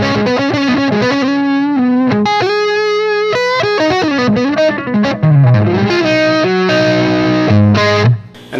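Electric guitar on the neck humbucker with the volume knob fully up, a loud, full overdriven lead line of sustained notes, bends and slides played alone, with no talking.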